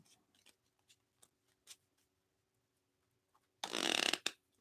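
Tarot cards are shuffled up close: a few soft taps and flicks, then one brief burst of riffling near the end, quiet and without talk.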